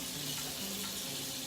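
Hot water running from a bathroom tap, a steady close hiss of flowing water, continuous and fairly soft, with no talking.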